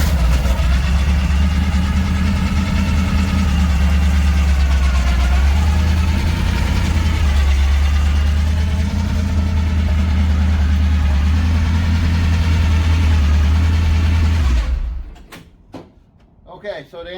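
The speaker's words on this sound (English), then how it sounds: "I put a set of timing gears in it. Small block Chevy, whiny ones." A small block Chevy V8 in a 1951 Willys M-38 idles loud and steady up close, its whiny timing gears adding a constant high whine, until it shuts off near the end and clicks and rattles follow.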